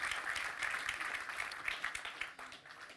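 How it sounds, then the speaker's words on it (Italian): An audience at a literary prize event applauds an author, a fairly quiet but continuous patter of many hands clapping, steady and slightly distant. "un grande applauso a Francesco Alberici che ci ha portato nei cinque libri finalisti"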